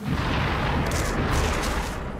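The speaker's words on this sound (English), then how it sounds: "you missed with the alloy cannon" An alloy cannon fires in the video game XCOM: Enemy Unknown, a heavy booming blast with a rumbling low end that fills the moment at steady loudness, with no talk over it.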